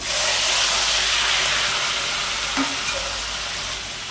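Steamed green peas hit hot oil in a pan for peas pulao, producing a loud, continuous hissing sizzle with a brief stirring knock partway through.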